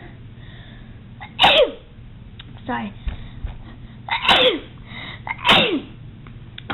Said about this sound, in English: I knew my sneezes were coming, so I didn't want to sneeze while talking.